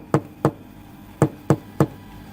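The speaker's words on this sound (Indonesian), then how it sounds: "Ia pun kemudian mengetuk pintu dengan pelan." Five soft knuckle knocks on a wooden house door, spaced unevenly in two quick groups, each a short, gentle thud against quiet room tone.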